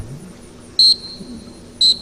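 Two short, sharp, high-pitched blasts from a dog training whistle about a second apart, stopping a retriever during swim-by training, loud over a quiet outdoor background.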